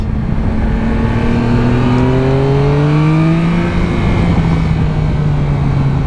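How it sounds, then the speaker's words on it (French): A Suzuki GSX-S 1000 GT motorcycle engine revs steadily, its tone climbing and then holding in a loud, smooth drone. "Je pars essayer une Suzuki GSX S 1000 GT."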